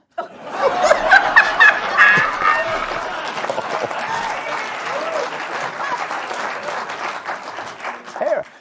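Studio audience applause breaks out on a late-night television comedy show, a dense sustained burst of clapping mixed with laughter and chuckles, loud and close, fading out after several seconds.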